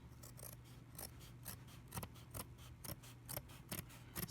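Scissors snip off excess material for a homemade mirror frame made from dollar-store items, a steady series of quiet, close crisp cuts at an even rhythm.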